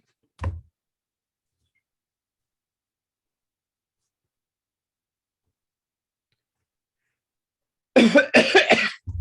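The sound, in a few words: cough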